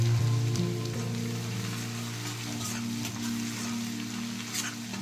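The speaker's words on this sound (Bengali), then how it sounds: "রসুনটা সুন্দর করে ভেজে নিচ্ছি।" Chopped garlic sizzles in hot oil with cumin seeds and dried red chilies in a pan, making a steady, crackling hiss throughout under a low background hum.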